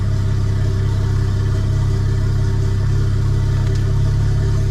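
A BMW with an N54 engine and a swapped-in dual-clutch transmission pulls away in first gear. The engine makes a steady, close, droning hum at low revs that rises slightly with no voices.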